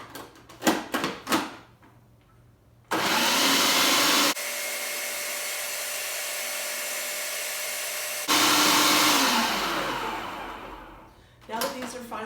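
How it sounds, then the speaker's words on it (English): A food processor blending basil, garlic and salt for pesto runs in two loud, steady bursts of motor whir, with brief talk and clatter before and after them. "we're going to put the lid on, and we're going to process this a little bit just to get these first ingredients blended"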